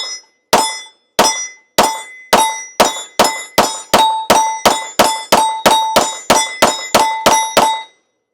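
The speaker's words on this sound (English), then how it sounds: "But I'm just shooting this steel target." Twenty pistol shots from a Springfield Echelon ring off a steel target, each a sharp crack followed by a bright metallic clang, fired at a steady, quickening pace with no talking.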